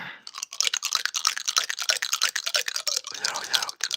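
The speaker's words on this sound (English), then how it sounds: "I got a clicky tooth." A clicking tooth, a rapid train of small sharp mouth clicks close to the microphone, dense and irregular for about four seconds.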